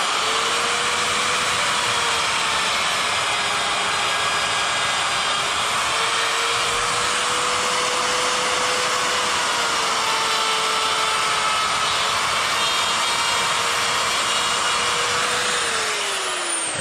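A rotary tool fitted with a Saburrtooth coarse burr carves the wood of a chainsaw-carved bear's eyes, giving a loud, steady high-pitched whine with a slight wavering pitch that runs unbroken throughout.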